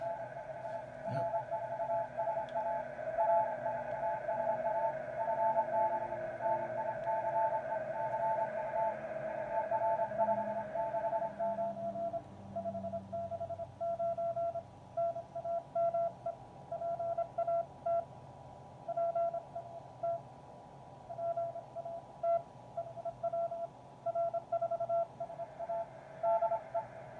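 A steady radio tone keys on and off in Morse rhythm, a CQ call of short and long beeps repeating over faint receiver hiss for a long stretch.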